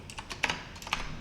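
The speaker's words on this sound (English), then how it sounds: "You could probably hear it being typed right now, this obnoxiously loud keyboard." Someone types on an obnoxiously loud computer keyboard with rapid, irregular clacking keystrokes, close but at a modest level, with no talk.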